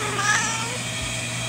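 A cat shut inside a basket lets out a drawn-out, whining meow close by, rising and trailing off over a steady low background hum, with no voices.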